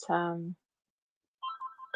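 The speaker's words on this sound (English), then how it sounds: "there goes my phone" A phone ringtone chirps briefly during a casual home podcast recording, with a short tonal burst, a pause of silence, then a second warbling ring that is cut off, fairly faint.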